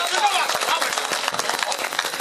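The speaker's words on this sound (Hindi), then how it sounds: "इस पर दिनकर जी के जवाब पर मैं चाहता हूं कि एक बार तालियों का महोत्सव हो।" Audience applause at an all-India mushaira poetry gathering in Bajpur, a dense burst of many hands clapping, loud and steady throughout with crowd noise mixed in.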